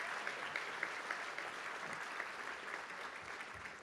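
Sustained audience applause at the Oakland County Economic Outlook 2022 event for sponsors including Genesis Credit Union and Oakland University, a dense, steady wash of many hands clapping at once with no talk over it.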